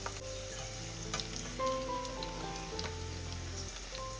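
Leftover idli pieces frying in hot oil and being scooped out, steady crackling sizzle with a few sharp ticks and a brief scoop, under faint background tones, no talking.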